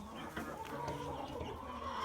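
Hens in a separate stall on a homestead give short, close clucks in an irregular patter. A faint voice talks in the background.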